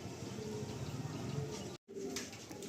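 A pair of Madrasi pigeons coos softly and repeatedly at close range, low rolling calls with a brief drop to silence midway.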